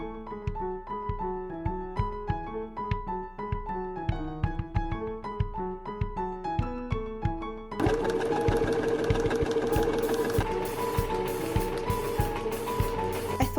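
Sewing machine stitching satin fabric pleats looped around a fork, starting with a quick rhythmic run of needle strokes, then settling into a loud, steady, fast continuous whir of stitching.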